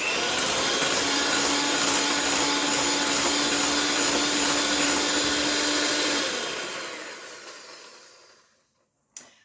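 An electric hand mixer whirs loudly and steadily through carrot cupcake batter for about six seconds, then winds down and fades out, ending with a brief knock.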